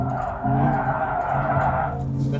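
An MG Cyberster brakes hard on an autocross course at a racing circuit, with a loud sustained tire squeal over engine drone throughout, close and continuous.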